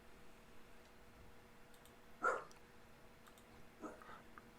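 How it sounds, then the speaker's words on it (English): A dog barks once at a distance in a quiet room, a single short sharp bark followed by a fainter second yelp a moment later, over a steady low background hum. "My dog's barking at something."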